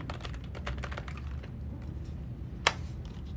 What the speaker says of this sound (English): It would help if I could type it in, right?